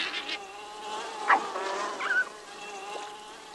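Bees swarming out of a hive in open country and attacking a coyote pup and a skunk, a steady buzzing drone with a few sharper close passes, no talking.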